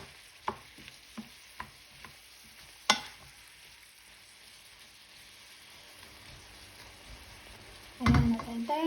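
Vegetables being stirred in a frying pan after oyster sauce and soy sauce go in, with a few separate scraping knocks early on, a soft steady sizzle, and a louder clatter of the pan near the end.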